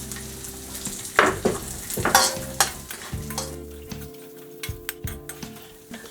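Chili, garlic and ginger frying in a pan for a street-style bottle gourd and split chickpea dhaba curry, a steady sizzle broken by sharp scraping stirs and clacks of a utensil against the pan.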